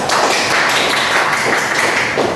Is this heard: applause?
yes